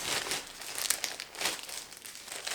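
Plastic wrapping of a heavy black package crinkles and rustles continuously as it is being opened, close and fairly loud, with no talking.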